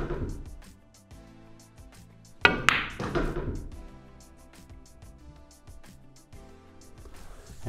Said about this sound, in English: So again, a follow shot, just a bit of outside spin this time.